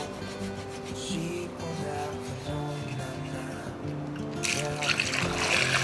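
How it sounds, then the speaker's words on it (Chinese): Tap water runs over small cucumbers as they are washed, a steady trickling pour under a soft rubbing sound, growing brighter and splashier toward the end. "倒入自来水来洗"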